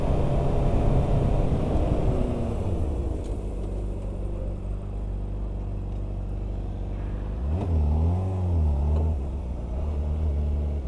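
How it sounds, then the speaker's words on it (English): A motorcycle engine revs hard twice inside a tunnel, its pitch climbing and falling with a booming, echoing rumble between bursts. "You know what you got to do in a tunnel if you got a motorcycle"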